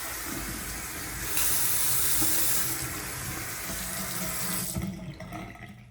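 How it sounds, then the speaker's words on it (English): Water runs steadily from a newly installed bathroom faucet into the sink, a close continuous hiss and splash that swells slightly before cutting off near the end. "So we'll just run a little bit of water with each of those."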